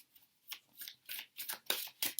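Tarot cards being shuffled by hand, a run of quiet crisp papery riffling bursts in an irregular rhythm, close and faint with no talk.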